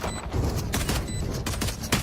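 Gunfire in Valorant during a tense esports playoff round: several rapid bursts of shots ring out at intervals over a dense, steady bed of game noise and crowd ambience, with a louder burst near the end.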